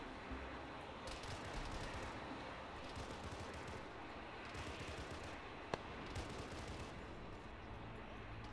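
Bursts of distant automatic gunfire in an Arma 3 firefight, a steady crackle of shots with one sharp nearer crack, under quiet radio chatter.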